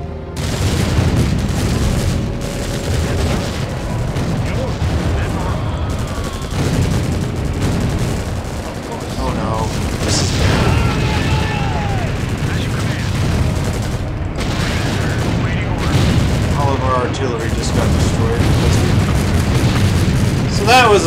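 Gunfire and explosions crackle from an Empire Earth battle in the German campaign, with repeated booms and bursts of shooting layered densely over game unit voice lines for a continuous stretch.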